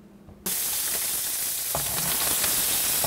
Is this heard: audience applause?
no